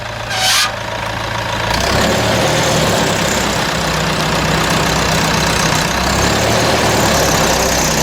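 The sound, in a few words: vintage Nuffield tractor engine starting and running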